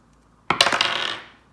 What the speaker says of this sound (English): how many of these dice am I rolling for group number 2 today